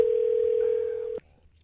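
Telephone dial tone heard while placing a call to a machine fabrication business, a steady close single-pitched hum lasting about a second before cutting off abruptly, with no voices.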